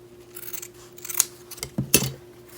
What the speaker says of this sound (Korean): 이렇게 원단을 잘라줍니다.